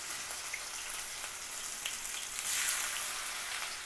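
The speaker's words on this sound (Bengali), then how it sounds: "কাঁচা জিরাটা একটু ফুটে উঠছে, তো এখন আমি এটাতে পেঁয়াজ দিয়ে দিব।" Onions hit hot oil with cumin seeds in a pan, giving a steady soft sizzle with light crackles that grows a little denser partway through, close and fairly quiet.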